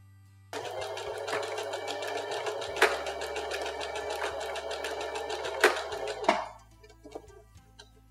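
A Singer home sewing machine runs a steady, fast needle clatter while back stitching along cloth. A few sharper knocks mark the direction changes before the motor winds down and goes quiet.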